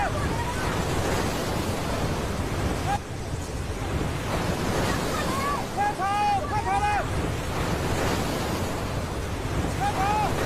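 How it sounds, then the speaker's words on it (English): Fast-moving flash flood water rushes past a riverfront picnic spot, a loud continuous roar with wind buffeting the microphone and faint higher cries partway through. "That's some serious water flow."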